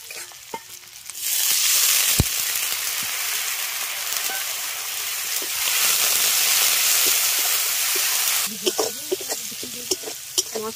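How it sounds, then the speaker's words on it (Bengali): Spice paste with tomato and a splash of water being stir-fried for ghugni: soft stirring clicks at first, then a loud, sustained hiss and sizzle when the water hits, easing back to scattered spatula taps near the end. "এবার অল্প অল্প জল দিয়ে মশলাটাকে খুব ভালো করে কষিয়ে নেব।"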